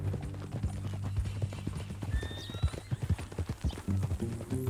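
Horse hooves clip-clop in Red Dead Redemption 2 as an irregular run of close, distinct thuds, with a brief whinny partway through.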